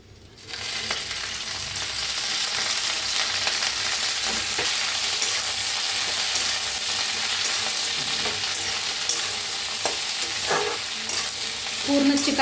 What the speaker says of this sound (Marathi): तेल ओतून भेंडी भाजून घेऊया।